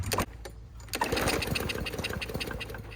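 Lawn mower engine running on biogas sputters to life after a short pause, settling into a fast, rough, steady putter close by.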